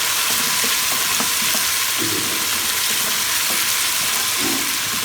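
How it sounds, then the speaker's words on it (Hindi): Ginger and garlic frying in oil for beef masala biryani, a steady close sizzle throughout with occasional stirring clinks and scrapes, no talking. "अदरक लहसुन डाल के हम 2 मिनट के लिए अदरक लहसुन को फ्राई कर लेते हैं।"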